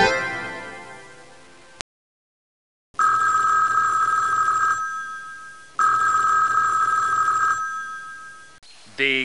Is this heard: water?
no